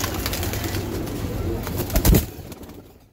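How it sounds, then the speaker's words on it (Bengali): A pair of green-necked pigeons coos softly nearby, with a brief low throaty coo standing out near the end over faint background noise. "এই এক জোড়া সবুজ গলা কবুতর।"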